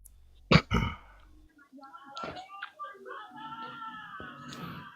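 Two harsh, close coughs burst out, followed by a person talking and clearing their throat.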